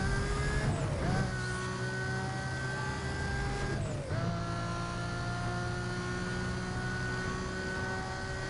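Race cars in the Need for Speed Most Wanted video game, a steady loud engine drone with high whining tones, dipping briefly at two gear shifts as the car keeps accelerating.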